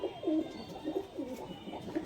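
A matched pair of 'chini' pet pigeons coo in soft, repeated low throaty bubbling calls, close by and unaccompanied by talk.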